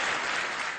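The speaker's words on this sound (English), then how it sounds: "Then a resounding ovation as a Palestinian leader entered the General Assembly chamber." Ovation in the UN General Assembly chamber as a Palestinian leader enters: dense, sustained applause from a large crowd, loud and even, filling the hall and tapering slightly at the end.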